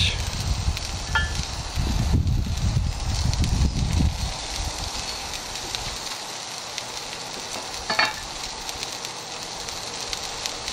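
Burger patties for homemade In-N-Out style Double Double burgers fry on a griddle, giving a steady crackling sizzle with heavier low rumbling bursts early on that fade to a lighter hiss. No one speaks.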